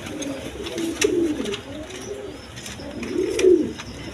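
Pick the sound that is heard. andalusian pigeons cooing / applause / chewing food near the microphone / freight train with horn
andalusian pigeons cooing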